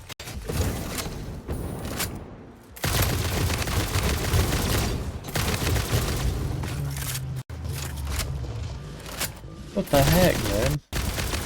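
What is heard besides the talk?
gunfire in the video game Satisfactory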